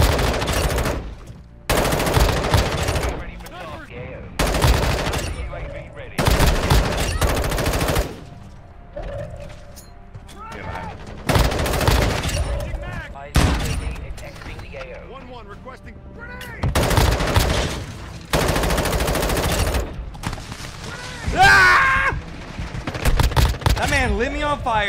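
Repeated bursts of rapid automatic gunfire from the video game Warzone Mobile, loud and close, arriving in clusters separated by brief quieter gaps, with a voice talking over parts of the action.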